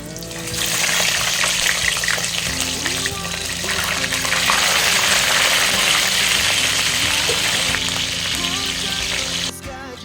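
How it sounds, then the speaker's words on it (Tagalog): Loud, steady sizzling and crackling of fish frying in hot oil in a pan, continuing for about ten seconds before cutting off abruptly. "Prituhin na natin siya."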